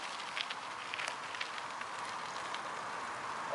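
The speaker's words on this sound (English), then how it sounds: "Oh, it's starting to rain." Light rain begins falling on a bush trail, a faint, steady patter of drops on leaves and ground with a few slightly louder hits, no talking.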